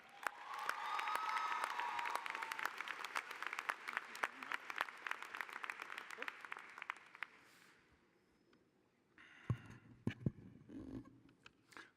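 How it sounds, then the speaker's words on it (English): Sustained applause from a large university commencement crowd for about seven seconds, fading out, followed by a few scattered sounds. "thank you very much for that very generous applause"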